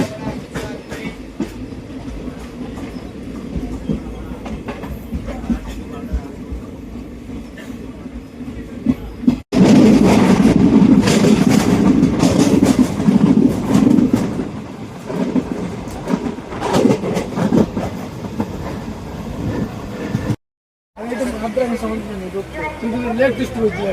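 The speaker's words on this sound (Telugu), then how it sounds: "ఈ ట్రైన్లో మనం అయితే కొంత దూరం తమిళనాడులో, మరి కొంత దూరం కేరళలో అయితే ప్రయాణిస్తాము" A passenger train runs through Tamil Nadu and Kerala toward Sabarimala, giving a loud continuous rumble and rattle with rhythmic clatter from the wheels on the rails, with voices heard over it and a brief dropout near the end.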